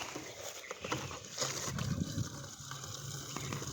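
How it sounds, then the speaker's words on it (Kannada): Water gushes and splashes into a sprayer tank being filled for herbicide spraying in a sugarcane field, a continuous churning pour with uneven surges and a few knocks. "ಇಲ್ಲಿ ಇನ್ನೊಂದು ಥೋಡೆ ಭರ್ತಿ ಮಾಡ್ಕೊಳ್ಳಿ."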